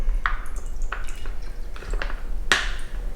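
Liquid pours into a container in a few separate splashy drips and plops, spaced irregularly across a few seconds and heard close up without any talk.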